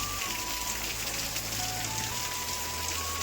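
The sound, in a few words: rain falling near the house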